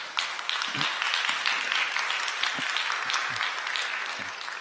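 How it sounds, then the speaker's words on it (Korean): A church congregation applauds steadily during a Sunday service, a dense wash of clapping that holds for several seconds before gradually thinning out. "여러분들 환영의 박수 부탁드립니다"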